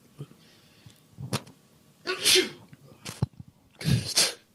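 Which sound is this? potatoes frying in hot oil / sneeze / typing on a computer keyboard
sneeze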